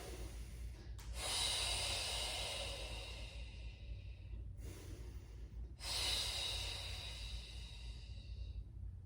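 Two long, forceful exhalations blown out during a Pilates abdominal exercise, each a sustained breathy rush lasting several seconds, close and clear, separated by a brief pause, with no talking.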